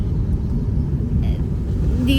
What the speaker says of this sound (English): these are the trucks.